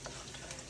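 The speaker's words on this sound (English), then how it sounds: "What we're gonna do is just kind of stir those around, you know, kind of stir fry it a little bit" Chicken being stir-fried in a pan makes a brief, faint sizzle mixed with light scraping of stirring, heard alone at close range.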